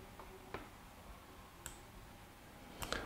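Computer mouse clicks while installing software onto a Raspberry Pi running Home Assistant, a few faint, sharp clicks spaced apart over quiet room hiss.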